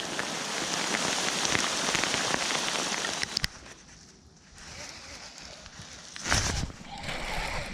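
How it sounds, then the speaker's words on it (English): Heavy rain drums on a fishing boat and the surrounding water in a dense, loud hiss that eases slightly midway, then swells again with a sharp rattle of drops. "Woo, she's raining now."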